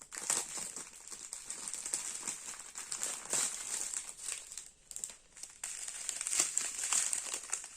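Plastic packet of diamond painting beads being opened, giving close, continuous crinkling and rustling of plastic with brief pauses and no talk.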